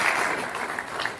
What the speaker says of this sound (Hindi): धन्यवाद। सभी तालियां बजाएंगे।